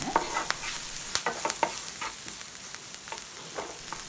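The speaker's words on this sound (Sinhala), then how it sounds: "දැන් බැදගත්ත කරවිල පෙති ටික මේ විදිහට එකතු කරගෙන හොඳින් මිශ්‍ර කරගන්නවා" Fried bitter gourd slices are stirred into a chili-spiced sambol mixture in a pan over a low flame. Quick spoon scrapes and clicks repeat irregularly over a gentle background sizzle, with no talking.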